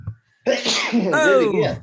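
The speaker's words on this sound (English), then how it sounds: "They hear a sneeze." A single loud sneeze bursts out at the start, followed by a short pause and then someone speaking in a relaxed home setting during a group video call.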